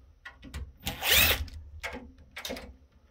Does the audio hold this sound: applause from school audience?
no